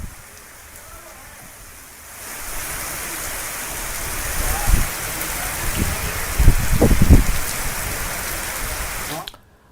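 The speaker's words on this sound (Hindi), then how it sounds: "आसमान में काले बादल छाए हैं, बारिश हो रही है" Heavy rain during Cyclone Yaas in Bhagalpur under dark clouds, a constant hiss of falling water that grows louder after a couple of seconds, with a few low thumps and bursts mixed in, ending abruptly.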